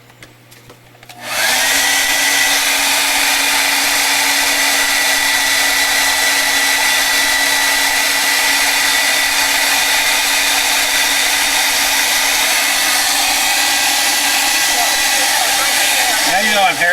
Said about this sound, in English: Now you know I'm hair drying again and I can't hear you.